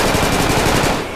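A rapid, loud burst of machine-gun fire, steady close rounds rattling for about a second with no talking.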